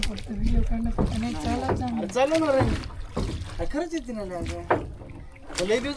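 Oars paddle a manually rowed boat on a lake, soft water splashes and dips running steadily beneath continuous conversation between people on board.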